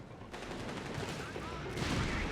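Machine gun fire crackles in a Company of Heroes 3 match, a continuous rattle of rapid shots at moderate distance with battlefield noise and faint voices beneath.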